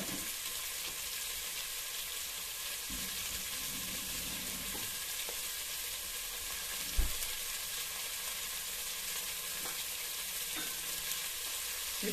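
Onions for chicken biryani fry in a pan, giving a steady, fairly faint sizzle throughout, with a few soft knocks from stirring and no talking.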